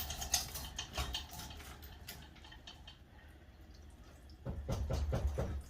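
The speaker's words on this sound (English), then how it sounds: "And here goes the rest of the antifreeze." Antifreeze drains from an International 300 Utility tractor engine, a quiet run of irregular drips and ticks landing nearby, thinning in the middle before a denser burst of splashy drips near the end.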